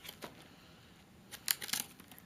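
A MunchPak snack box is cut open, giving brief scratchy slicing and crinkling sounds, quiet at first and then a sharper cluster of close cuts and rustles near the end.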